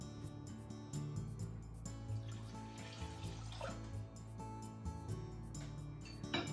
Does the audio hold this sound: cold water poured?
yes